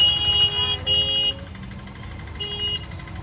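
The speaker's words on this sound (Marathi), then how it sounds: "भयानक ट्रॅफिक आहे." Vehicle horns blare in overlapping honks in heavy Amritsar traffic, first two long blasts close together and then another after a pause, over a low traffic rumble.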